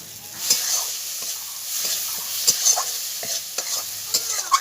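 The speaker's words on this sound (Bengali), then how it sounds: "মশলাটাকে ভালো করে কষে নিয়েছি" Spice paste being stirred and fried in a pan for a giant taro (mankochu) dish: repeated scraping strokes of a spatula over a steady close sizzle, with no talking.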